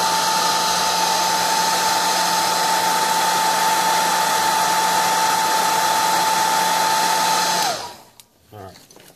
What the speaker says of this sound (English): Try to keep the heat directed away from the wiring harness unless you want to melt it.